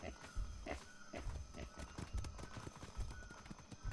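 Hooves of a horse in the video game Atlas Maelstrom clop in a loose walking rhythm at close range, with a faint whinny and someone talking over the steps.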